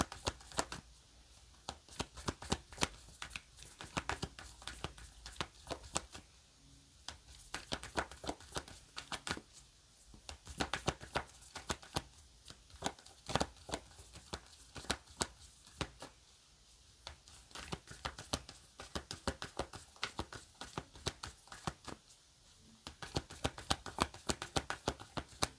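Tarot cards shuffled by hand in a long, steady run of soft riffling and flicking, close and fairly quiet, with brief pauses between bursts and no talking.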